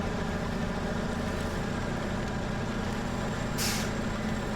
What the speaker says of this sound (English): We'll put the handbrake back on.